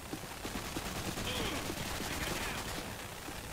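Rapid automatic gunfire in a Call of Duty multiplayer match crackles in bursts against a dense, noisy game mix, steady and fairly loud with no talk over it.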